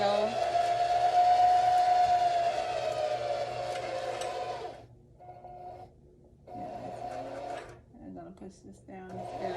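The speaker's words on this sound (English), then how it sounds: "you see the bobbin is threading on the spool" A Singer heavy duty sewing machine whirs steadily while winding a bobbin, a loud motor hum that cuts off briefly and then restarts for a shorter run.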